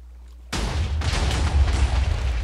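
A Minecraft explosion bursts in suddenly after a quiet start, a loud, close boom that rolls into a long, rumbling roar with a second surge partway through.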